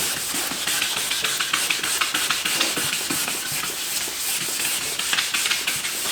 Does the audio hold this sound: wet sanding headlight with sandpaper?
yes